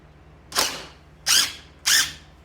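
Three short, sharp bursts of a heavy-duty impact gun hammering on a screw on an 1887 Singer VS-2 sewing machine, evenly spaced and close, with quiet between them.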